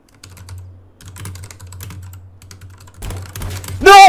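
Typing on a computer keyboard in a video game session: a run of quick, light key clicks over a low steady hum, ending with a sudden louder burst of noise.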